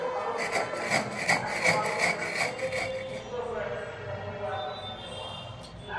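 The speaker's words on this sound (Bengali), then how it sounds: "এই চিনিটাকে আমি সুন্দর করে বেটে বাটায় বেটে গুঁড়ো করে নেব" Sugar being ground into fine powder on a stone grinding slab, a steady gritty rubbing with repeated scraping strokes that fade into softer scraping.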